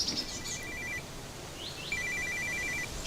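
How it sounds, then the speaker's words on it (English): A satellite phone rings in a forest scene of a radio drama: two bursts of rapid electronic trilling separated by a pause, fairly quiet over a soft background hiss, with no voices. "Is that your sat phone?"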